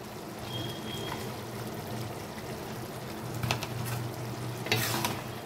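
Boiled peas go into potato and cauliflower frying in a pan, over a steady close sizzle, with a couple of brief clattering stirs near the end.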